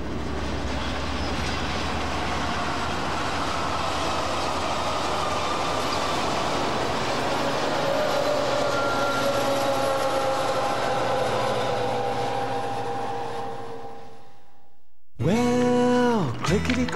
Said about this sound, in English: Clickety-clack goes the railroad track.